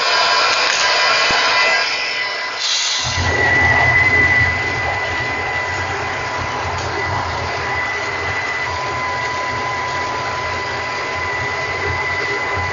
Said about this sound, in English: I'm just checking to see if the mill sounds like it's done